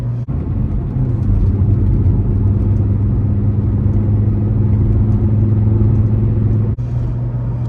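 An Audi Ur Quattro MB with 113,000 miles idles close by, a steady low engine rumble with an even hum, and a brief blip near the start and the end.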